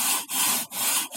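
A hand saw cuts a foam concrete block during a house foundation repair, giving three rough, rasping strokes in steady rhythm with brief pauses between them, loud and close.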